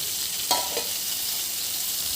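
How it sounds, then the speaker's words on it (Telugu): A spoonful of oil heats in a pan with ingredients for mint chutney, giving a quiet steady frying hiss broken by two soft knocks of a spoon near the start, no voices. "ఒక స్పూన్ ఆఫ్ ఆయిల్ వేసి దీన్ని కొంచెం వేయించుకోవాలండి"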